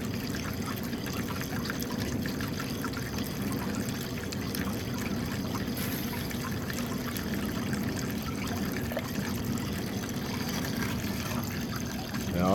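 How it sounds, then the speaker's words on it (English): Water trickles and pours steadily through a small sluice on an E-Banker, a continuous soft, burbling flow at moderate distance with no voices. "Now I barely have any water running at all here,"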